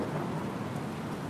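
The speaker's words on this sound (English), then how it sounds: "You're gonna be staying in the rain for a little bit, buddy." Steady rain falls in the video game Battlefield Hardline, a dense, even hiss of drops with a low rumble beneath, constant and close throughout with no voices.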